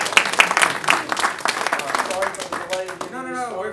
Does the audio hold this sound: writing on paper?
no